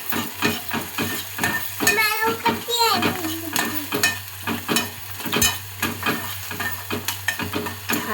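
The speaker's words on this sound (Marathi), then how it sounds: "कांदा मस्त असा ब्राऊन होईपर्यंत भाजून घेऊया. तेल तापले त्याच्यामुळे कांदा हा लगेचच भाजतोय." Sliced onion fries in hot oil in a pan, browning, with a steady close sizzle broken by regular scraping stirs of a spoon. A voice is briefly heard partway through.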